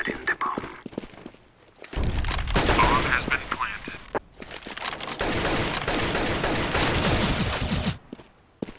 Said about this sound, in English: All I heard was bullets going past Sonic's head.